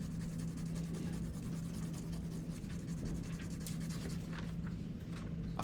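A graphite stick rubbed over paper to lay down graphite for a transfer of facial features, going over an eyebrow area: a steady, close, continuous dry scratching with a faint low hum beneath, and no voices.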